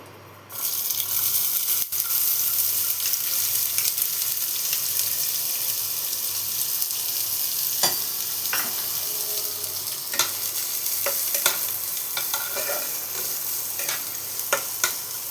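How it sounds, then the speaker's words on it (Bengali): Chopped onion sizzles steadily in hot oil in a pan, a continuous close frying hiss with occasional stirring clicks and scrapes, and no voices. "পেঁয়াজটা হালকা করে ভেজে নেব।"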